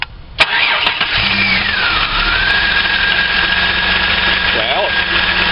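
Holden VR Commodore engine, fresh from a spark plug change after a misfire, cranks and catches, then settles into a steady, smooth idle close by with a faint hum; a voice briefly speaks over it.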